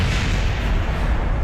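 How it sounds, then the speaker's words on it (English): Explosions in space in the game Kerbal Space Program, a dense, continuous low rumble of blasts and booms that stays loud and steady throughout, with no talking. "it's amazing how we can hear the explosions through the vacuum of space over all that distance"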